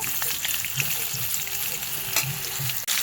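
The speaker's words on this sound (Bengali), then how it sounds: "দেখো আলুটা লাল লাল ভাজা হয়েছে" Steady sizzling of potatoes frying until reddish-brown in a pan, with occasional stirring scrapes and clinks, close and continuous.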